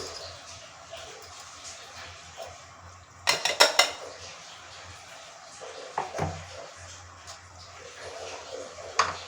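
A utensil mixes ground dabeli masala spices, Kashmiri red chilli and turmeric powder, in a dish, giving a quick burst of close metallic clinks followed by scattered scraping taps over a quiet kitchen background.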